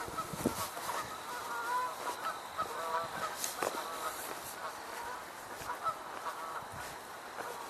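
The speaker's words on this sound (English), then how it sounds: "So we're hearing two sets of geese, the ones in the air and the ones in ground control." Several geese honk overhead in an open outdoor setting, repeated calls layered over a steady ambient bed with more geese calling from the ground, moderately near and fairly loud throughout.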